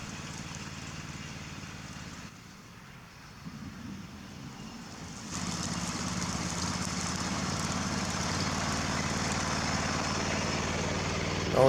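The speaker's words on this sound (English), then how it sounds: "Oh yeah, look at that, just mowing all that stuff down." A modified mud mower, a lawn mower rebuilt for mud, runs its engine while mowing: a steady rough drone that steps up sharply about midway and stays loud and close to the end.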